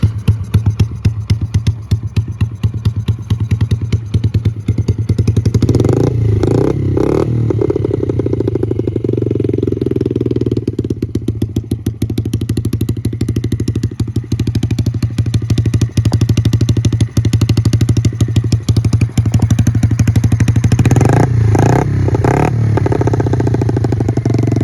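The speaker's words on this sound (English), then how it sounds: "Dirt bike fires right up." A 2006 Yamaha TTR50 50cc dirt bike engine runs steadily and loud at close range, with a low throbbing idle, a couple of brief revs and clattery thumps, after adjustments to its air-fuel mixture.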